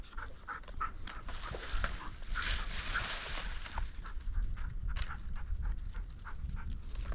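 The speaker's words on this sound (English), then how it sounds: "So funny, these dogs work in sequence like that." Hunting dogs pant rapidly and steadily nearby, with rustling movement and a few faint yips over a constant outdoor background on a quail hunt.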